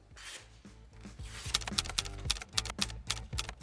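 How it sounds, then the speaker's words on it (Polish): A sharpened knife, freshly stropped on a leather strop, slices through a sheet of paper close up, giving a run of crisp, rhythmic cutting strokes with rasping edges. "Nóż bardziej przecina niż szarpie ten papier."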